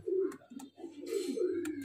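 Giribaz highflyer pigeons, including a yellow-eyed hen, give soft, throaty coos close by in a few rounded phrases separated by brief pauses, with faint chirps on top and no talking.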